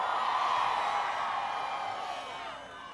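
A hometown crowd at a Chicago rally cheers and whoops as a loud, sustained roar of many voices that gradually eases over a few seconds.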